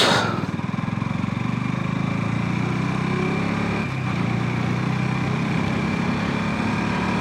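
A motorcycle engine hums steadily through a late-night ride in Berhampore, a continuous mid-pitched drone with a brief dip partway through.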